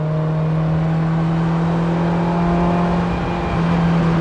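A 1978 Ferrari 308 GTB with a carbureted V8 runs at a steady, droning pitch, close and loud, with a constant hum and no clear rev spikes.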